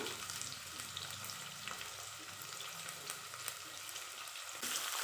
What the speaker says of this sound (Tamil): வெங்காயம் நல்லா கலர் சேஞ்ச் ஆகிற அளவுக்கு நல்லா வதக்கிக்கோங்க